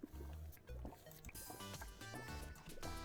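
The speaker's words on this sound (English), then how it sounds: "had to take a sip of water there" Someone takes a sip of water close to the microphone, making faint liquid slurps and swallowing sounds in short bursts.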